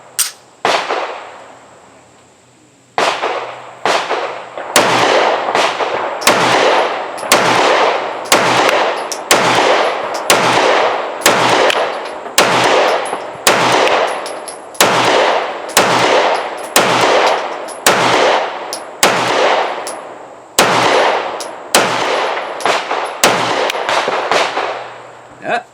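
A Sarsilmaz 2000 9mm pistol fires Winchester 115 grain rounds, about twenty loud, sharp shots spaced roughly a second apart at close range, each followed by a brief ringing decay.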